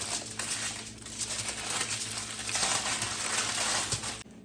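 Aluminum foil crinkles and crumples loudly close by as warm cheesy bean and rice burritos are rolled up in it, a continuous dense rustle with sharp crackles throughout.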